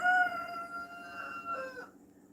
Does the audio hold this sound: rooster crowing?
yes